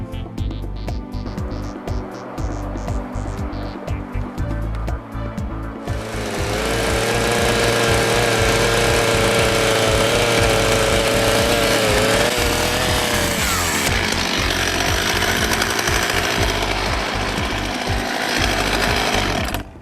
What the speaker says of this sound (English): it's just a bit more sawing and that'll do it.